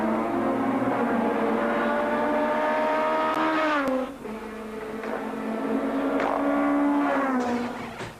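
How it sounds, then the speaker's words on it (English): A BMW rally car pulls away from the start line on a stage of the 2001 Cape Rally, its engine droning loud and close, dropping in pitch briefly at a gear change, then climbing again as it accelerates away. "Van der Vault chases Rueda as Blackman's BMW leaves the line"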